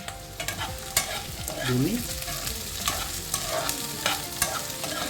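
Onions, dried red chillies, mustard seeds and garlic fry in a pan, a steady close sizzle with repeated scraping stirs and spoon knocks, a brief spoken word briefly over the cooking.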